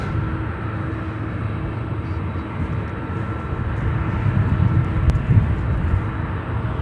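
A Frontier Airbus A321neo jet arriving at Chicago O'Hare, a steady broad engine roar that swells slightly partway through and holds, heard from a distance with no talk.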